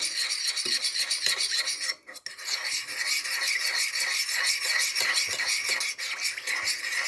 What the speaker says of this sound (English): I couldn't find a jar, so I'm just going to stir it in